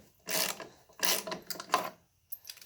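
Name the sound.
ratchet with extension removing bolt on John Deere 4110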